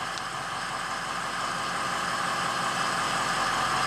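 A 6.0 Powerstroke diesel engine idles steadily with a failing injector coil on cylinder five, producing a continuous, fairly close mechanical drone with no talking over it.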